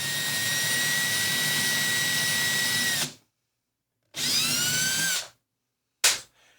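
A drill press bores into a wooden drawer front in three bursts: a steady three-second whine, a shorter second run that spins down at its end, then a brief blip, with silence between runs.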